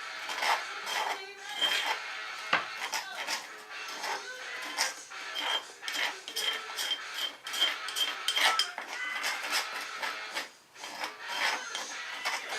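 A spoon scrapes and clatters against a pot while food is mixed, in irregular rhythmic strokes with short pauses, close and moderately loud, with no speech.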